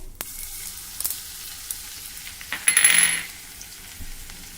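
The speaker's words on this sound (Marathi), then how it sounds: "तूप गरम झालं की त्यामध्ये मोहरी घालूया जिरे अर्धा टेबलस्पून ठेचलेला लसूण घालणार आहे" Mustard seeds, cumin and crushed garlic drop into hot ghee with a few scattered ticks and pops, then a brief burst of loud sizzling that fades back to a quiet crackle.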